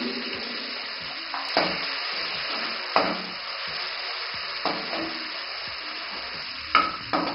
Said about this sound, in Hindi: घी हमारा गर्म हो चुका है। अब मैं इसमें सब्ज मिर्च डाल लूंगी।